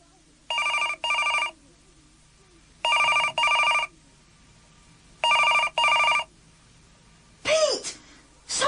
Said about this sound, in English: The phone went on ringing.